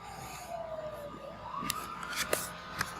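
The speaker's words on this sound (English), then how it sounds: "I just opened the window and now there's a siren." An emergency vehicle siren drifts in through an open window, its wailing tone rising and falling at moderate distance, with a few sharp clicks nearby.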